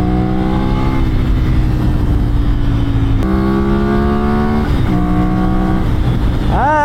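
A Ducati Monster 796 motorcycle engine accelerates hard through several gears, each pull rising in pitch before a brief drop at the shift, loud and close.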